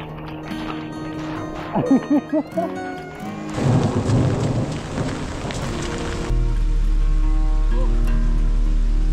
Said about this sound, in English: This is some of the heaviest rain I think I've ever seen in my life.